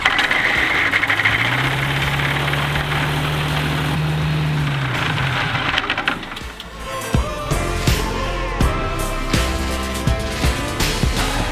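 Car engine running and idling after an oil change, a loud steady drone with a rising tone early on, then settling into a rougher, pulsing idle with rhythmic knocks.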